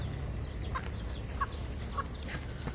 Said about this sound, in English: You little crazy chickens.